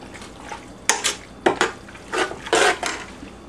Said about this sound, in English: stir everything together, get all the spices mixed in with the rest of the vegetables